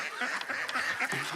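Wood ducks kept in a private waterfowl collection call in short, nasal squeaks and quacks, several overlapping bursts close by with no voices.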